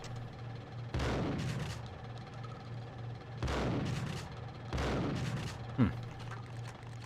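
Gunfire in the video game Max Payne: three loud, sharp shots spaced a couple of seconds apart, each with a booming tail, over a low steady in-game hum, followed by a brief metallic click.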